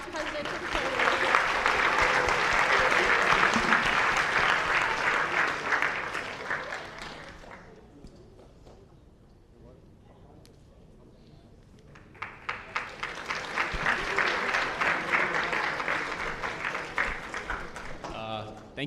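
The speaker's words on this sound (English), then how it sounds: "let's give one final round of applause to our Student Council Vice President for the candidates" Students and audience clap for student council presidential and vice presidential debate candidates, loud sustained applause for about seven seconds, a quieter lull with voices, then a second strong round of clapping.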